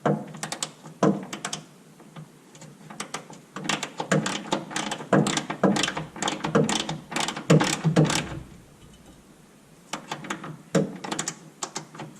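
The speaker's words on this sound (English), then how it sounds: "We start ratcheting this stuff." A hand ratchet tightening the shock absorber bolts on a truck, with rapid clicking bursts in repeated runs and short pauses between them, close and moderately loud.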